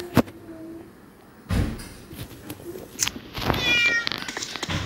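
A cat meows in the PK XD video game, one short cry followed by a louder meow, set among sliding-door thuds and soft game sounds.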